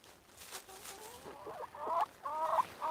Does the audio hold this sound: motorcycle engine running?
no